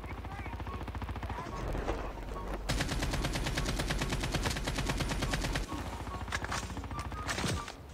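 Rapid automatic gunfire in the mobile shooter game Call of Duty Mobile, a dense sustained burst of rattling shots in the middle with scattered single shots around it, loud over game sounds, with someone talking.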